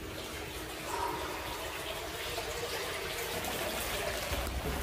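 Water flows steadily through an abandoned tunnel near a manhole, a continuous rushing trickle with echoing, mid-level loudness throughout.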